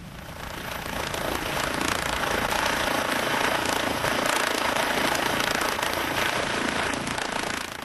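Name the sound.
helicopter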